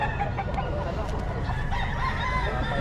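A rooster crows amid a gathering where chickens are being traded, its call rising over a busy background of murmuring voices and low noise.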